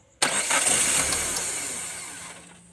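A Toyota Corolla 4A-FE engine, showing error code 14, cranks and catches abruptly, then settles into a steady idle that slowly fades; close by, with no speech.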